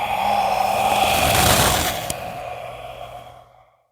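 A long, forceful breath pushed out during a Ki Gong breathing exercise, a steady breathy rush that holds for about two seconds, then fades gradually to silence with no talking.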